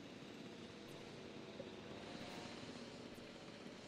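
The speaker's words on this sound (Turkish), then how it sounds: "Helikopter." Distant, steady drone of a helicopter in Jurassic World Evolution 2, a faint continuous engine hum that holds at a low, even level without talk.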